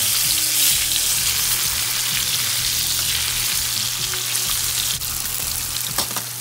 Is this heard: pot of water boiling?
yes